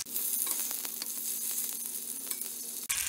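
Salmon fish slices shallow frying in oil in a pan, Indian style, with a steady close crackling sizzle and a few quick pops, ending in a brief clatter.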